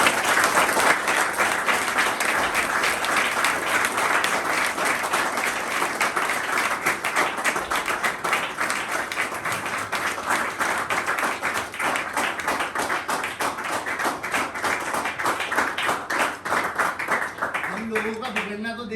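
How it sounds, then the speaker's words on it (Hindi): Loud, sustained applause from an audience at a gathering at a drug rehabilitation centre, honouring an 18-year-old marking one year of recovery; dense clapping fills the whole stretch, with a voice entering near the end. "उनके जोरदार तालियां"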